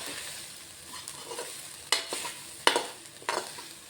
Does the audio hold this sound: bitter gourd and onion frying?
yes